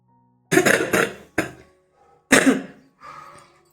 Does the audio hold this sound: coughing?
yes